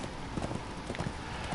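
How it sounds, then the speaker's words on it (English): Horse hooves in the video game Darksiders II, a short run of quick, regular clip-clop beats at moderate level over a dense game soundscape. "Go, horsey!"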